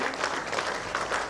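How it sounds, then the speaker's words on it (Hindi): Dense, steady applause from an audience at a company's second anniversary celebration, a continuous crackle of many hands clapping with no voices over it. "जबरदस्त ताली बजनी चाहिए"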